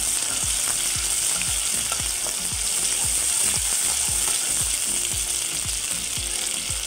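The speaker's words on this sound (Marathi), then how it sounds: "1-2 मिनिट आलं लसूण पेस्ट जी आहे ना ती व्यवस्थित तेलात फ्राय करून घ्यायची।" Ginger garlic paste frying in hot oil for a dry chicken dish, a loud steady sizzle with regular scraping strokes of a spoon stirring through it, close and continuous with no talking.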